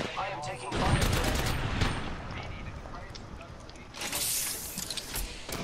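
Gunfire in an Apex Legends match crackles as rapid bursts of shots, moderately near, with sustained firing and a sharper flurry toward the end, heard beneath game ambience and voices.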